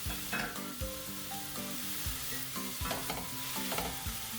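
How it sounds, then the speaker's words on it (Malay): Vegetables stir-fried Javanese style in a pan, an even crackling sizzle cut by regular scraping clanks of the spatula every half second or so, close and clear, with no voices. "We're going to stir fry for just a little while longer, about 30 seconds."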